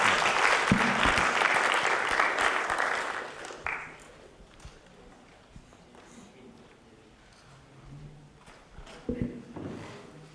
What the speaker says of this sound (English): can we have a nice round of applause to wrap things up?